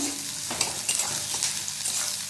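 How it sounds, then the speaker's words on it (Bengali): Chopped onion and green chili frying in hot oil in a pan, a continuous close sizzle with occasional stirring scrapes, steady and fairly loud, with no voices. "এবার এর মধ্যে আমি পেঁয়াজ কুচি আর কাঁচা মরিচের কুচি দিয়ে দিচ্ছি। প্রায় এগুলোকে ভালোভাবে একটু ভেজে নিতে হবে।"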